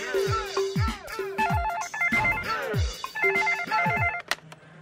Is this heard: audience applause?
no